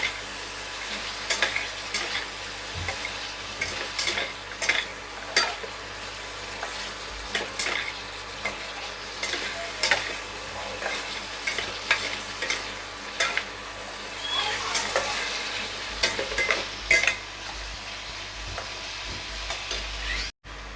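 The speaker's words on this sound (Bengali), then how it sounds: "ডুমুরটা দিয়ে আমি কিছুক্ষণ কষিয়ে নেব।" Figs fry in spice paste in a pan for a vegetarian fig curry, a continuous sizzle with repeated scraping and clinking of a spoon as they are stirred, close and steady throughout.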